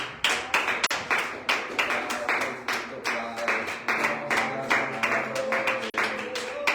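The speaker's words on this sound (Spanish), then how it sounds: "Dale un fuerte aplauso a Dios" Church congregation clapping at a Sunday evening service, a steady run of sharp, fairly close claps with a few distinct strikes, while voices murmur underneath throughout.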